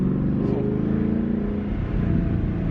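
A cold Ford Mustang GT/CS V8 fitted with Borla ATAK mufflers, held at a steady fast idle around 2,500 RPM on a morning start, giving a continuous loud, close exhaust drone with no break.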